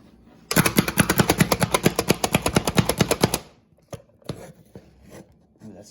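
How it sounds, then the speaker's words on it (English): A food chopper works through onions and garlic in one rapid burst of about three seconds of fast, evenly spaced mechanical chops, loud and close, then stops, leaving a few faint clicks and knocks. "using our food chopper, we're chopping up some onions and garlic"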